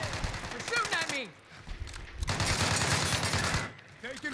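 Gunfire in a shooter video game, rapid automatic bursts rattling in two long volleys, with a voice talking briefly at the start and end.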